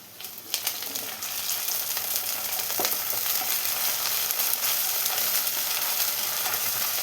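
Curry leaves drop into golden brown onions frying in a pan for cherupayar curry: a sharp burst of crackling, then a dense, steady sizzle with occasional stirring scrapes and no voices.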